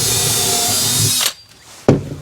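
Power drill driving screws into a toolbox during a van fit-out, a loud steady whir held for over a second, then a pause and a brief second burst.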